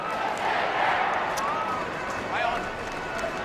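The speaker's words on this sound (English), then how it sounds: "It's the Sydney Swans fans you can hear now." Sydney Swans fans cheering in a crowded stadium at an AFL match against Hawthorn, a sustained broad roar with some shouts and faint whistles rising and falling, fairly distant, with commentary speech over it.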